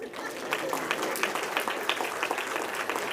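Lecture audience applauding, a soft, fairly distant patter of many hands clapping continuously with faint murmuring beneath.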